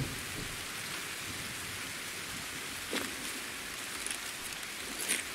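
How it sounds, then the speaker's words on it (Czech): Steady rain hisses and patters on a surface throughout. A few brief louder splashes or gusts come near the middle and the end. No voices are heard. "prej prší, no"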